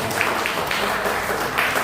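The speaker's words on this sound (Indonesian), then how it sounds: "Kita beri tepuk tangan untuk jawaban paslon 1" Audience applause at a school student-council candidate debate, a steady dense patter of many hands filling the room evenly from start to finish.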